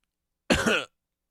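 A single short, throaty cough, close and fairly soft, alone in silence.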